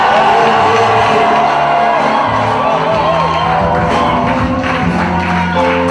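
A church congregation at a French-language service shouts, whoops and cheers loudly and continuously, a dense crowd roar with overlapping voices throughout.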